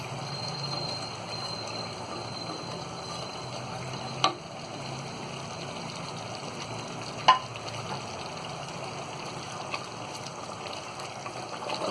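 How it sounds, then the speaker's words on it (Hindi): Mutton with fried onions sizzling and frying in a pan over a medium flame, a steady close crackle with a couple of sharp clinks from stirring. "प्याज डालने के बाद में 5 मिनट और हम इसे भूनेंगे।"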